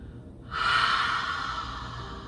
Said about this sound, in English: So making a ha sound, feel the air on the back of the throat